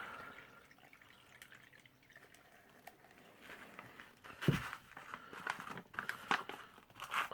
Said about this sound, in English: pour the 250 mils in.